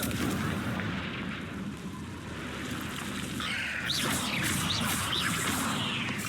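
Confringo blasting spell cast in Hogwarts Legacy inside a cave, heard as a dense, loud fiery rumble with whooshing bursts, a few sharp crackling flares toward the end, continuous over steady background noise.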